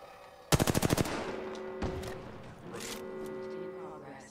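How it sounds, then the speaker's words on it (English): A rapid burst of about eight automatic gunshots in the video game Apex Legends, loud and close, followed by a lone shot and faint game sounds, with players talking over the game audio. "Shoot it, it's hurt."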